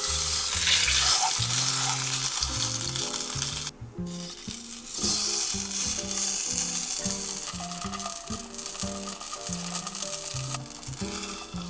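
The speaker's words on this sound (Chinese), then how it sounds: "不用一遍一遍站起来煎侧面，一次都可以均匀煎到金黄色。" Turnip cake sizzles in a pan as it fries until golden, a steady close crackle with rhythmic scraping and stirring knocks and a short quieter gap.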